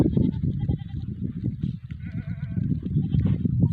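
A shepherd's flock of goats and sheep moves together toward a village fountain to drink, with many overlapping bleats close by, a dense, continuous chorus of animal calls over shuffling movement.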